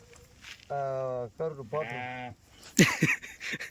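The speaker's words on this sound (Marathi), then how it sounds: "या ठिकाणी खाली काकाच्या मेंढ्या उभ्या राहिल्या आहे बरं का" Sheep standing below on a farm bleat twice in quick succession, two clear, loud, wavering calls, followed by some rougher noises and a brief burst of voices.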